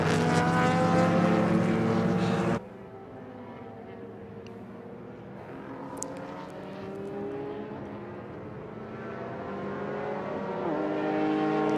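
Race cars, among them a Mazda RX-7, scream past on a racing circuit: a loud engine roar cuts off abruptly, then distant engine whine rises and fades across the track for the rest of the clip.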